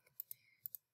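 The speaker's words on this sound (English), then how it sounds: "So as I'm typing this out" Someone types on a computer keyboard, producing a handful of quick, light key clicks close by at a quiet level, with a faint tone in the background and no speech.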